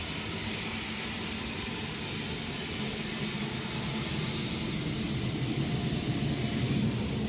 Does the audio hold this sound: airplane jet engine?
yes